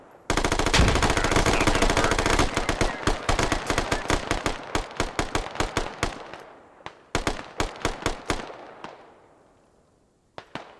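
Rapid 5.56 rifle fire in a combat video game rattles off in long loud automatic bursts, then breaks into shorter volleys and a few final shots before fading out.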